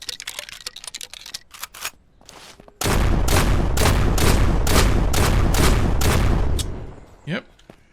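Shotgun fire in the survival game SurrounDead comes as a loud run of rapid booming blasts after sparser clicks and shots, with a voice briefly heard near the end.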